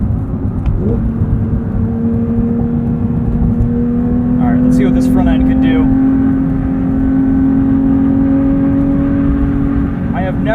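Porsche 911 GT3 with manual gearbox being driven, its engine holding a steady loud drone with a slowly rising pitch as it accelerates, with a person talking over it.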